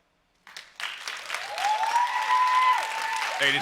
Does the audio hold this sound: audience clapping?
yes